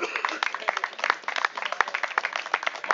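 Spectators at a dog show for mastiff-type breeds clap steadily in a scattered, moderately close burst lasting a few seconds.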